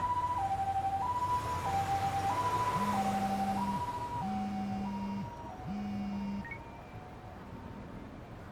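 An ambulance siren in the video game Lost Judgment wails loud and continuous, rising and falling in a steady two-tone pattern, with no talk over it.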